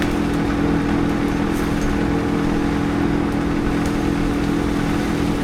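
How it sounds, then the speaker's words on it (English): A tractor backs up while pulling a cut tree section during a tree removal, its engine running steadily and fairly loud throughout with a constant low rumble. "now see he's backing up the tractor, pulling the piece up"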